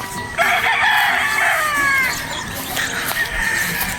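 A fighting rooster, a bullstag, crows on a game farm in Batangas: one long, loud, close call that rises and holds, then a second crow starts and is cut off, with faint background noise.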